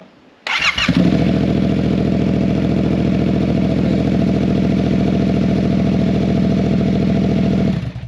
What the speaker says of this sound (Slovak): Teraz si motorku naštartujeme na pár sekúnd.